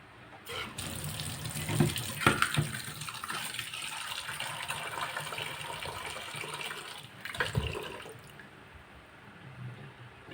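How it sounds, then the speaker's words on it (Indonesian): Tap water runs steadily into a pot, a broad rushing gush that holds for several seconds, with a few clinks of the pot against the sink partway through, before the flow tapers off near the end. "Saya harus ambil air dulu."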